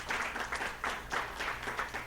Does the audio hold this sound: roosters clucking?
no